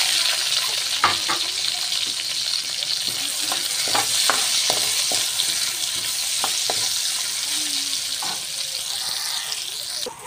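Onion sizzles in hot oil in a pan for chicken biryani, a steady bright crackle with repeated knocks and scrapes of a spoon stirring, close and continuous with no talk.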